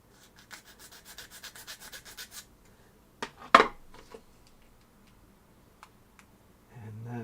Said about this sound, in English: doesn't take a lot of filing